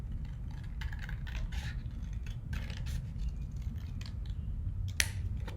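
Scissors cut a paper butterfly wing, trimming out a pupil-shaped center with a run of close, crisp snips and rustles and one sharper snap near the end.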